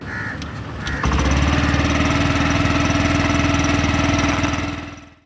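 A Honda Activa 6G scooter's 109cc single-cylinder engine catches after a brief moment and settles into a steady, close idle, its low putter continuing evenly before cutting off at the end.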